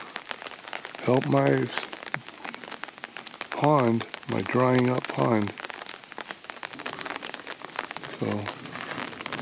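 Steady rain patters and crackles outdoors in a winter garden beside a small pond, a dense continuous hiss heard close while someone talks over it at intervals.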